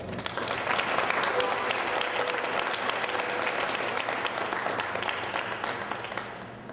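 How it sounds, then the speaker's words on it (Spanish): Applause from an audience of young people after a talk, a full, continuous patter of many hands clapping at steady loudness throughout, with faint voices mixed in. "hacemos un aplauso"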